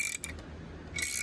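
A wrench ratchets a bearing race into a Volvo 850 T-5R angle gear housing, giving quick metallic clicking bursts at the start and end with a quiet pause between, close and alone.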